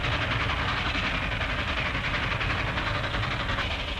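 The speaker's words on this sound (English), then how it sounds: "big steam engines leaving their trails of smoke behind them, huffing and puffing out history with every turn of their wheels." A big steam locomotive running at speed, its train rolling along with a steady, dense rumble and faint rhythmic wheel clatter, loud and continuous throughout with no talking.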